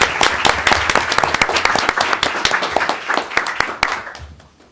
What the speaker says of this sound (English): Let's give these educators a round of applause.